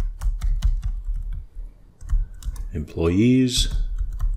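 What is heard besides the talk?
typing code on a computer keyboard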